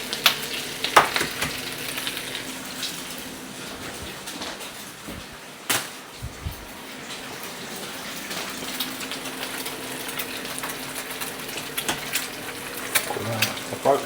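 Eggs frying in a pan alongside haggis, a steady close sizzle with clattering pan and utensil knocks throughout, no speech over it.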